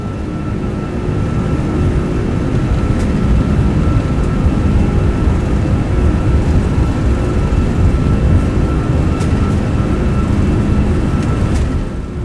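Airbus A340 engines roar at takeoff thrust in a flight simulator game, a loud continuous low rumble that holds steady throughout.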